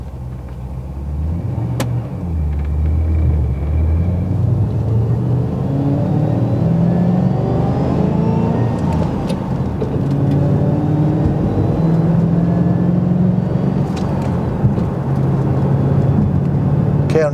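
A 2008 Ford Mustang GT500 engine revs hard and climbs through first, second and third gear, pitch rising and dropping with each shift, loud and close throughout.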